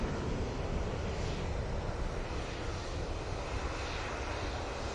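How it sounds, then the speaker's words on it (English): An airliner pushes back at Manchester Airport, giving a steady, broad aircraft engine roar heard from a distance with light wind noise, unbroken and even from start to finish. "we've got our first air tanker of the day pushing back"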